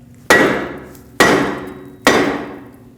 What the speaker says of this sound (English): use a hammer, tap right between the lug studs, and that should break it free from the hub